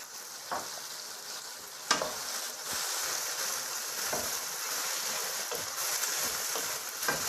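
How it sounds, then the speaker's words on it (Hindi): Green chillies and tomatoes fry in a pan for a bhindi masala, giving a steady sizzle with occasional stirring clacks and scrapes, fairly close and continuous, no voices. "दो तीन मिनट के लिए मैंने टमाटर डालने के बाद इस तरह इसको भुना है"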